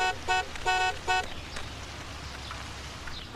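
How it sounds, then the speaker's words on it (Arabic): Three short, loud toots of a car horn in quick succession on a street, followed by quieter road ambience. "زمر له يا حسن"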